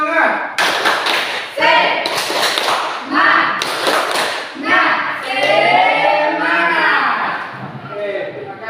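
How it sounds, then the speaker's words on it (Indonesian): Children in an Indonesian classroom perform a rhythmic spirit clap, sharp group hand claps in patterned bursts alternating with chanted voices, close and lively. "Tepuk semangat."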